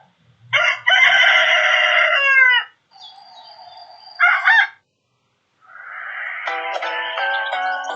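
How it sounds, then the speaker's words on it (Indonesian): A rooster crows three times, with a long loud crow, a shorter one and a final drawn-out call, each separated by silence and heard up close. "Ayam berkokok."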